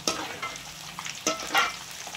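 Raw banana slices frying in oil for chips while being stirred: a steady sizzle broken by scraping stirs and a few sharper clinks, moderately close, with no voices.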